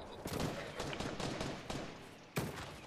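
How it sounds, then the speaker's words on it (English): Repeated gunshots in a Fortnite match ring out as a fast volley of sharp cracks, fairly distant and moderately loud, followed after a brief pause by one louder close shot. "I can hear shots there"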